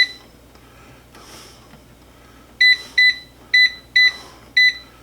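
An air fryer's control panel chirps as it is set to air fry at 350 degrees, five short bright beeps in quick succession after a quiet stretch of faint background noise.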